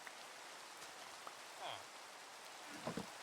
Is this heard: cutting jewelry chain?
no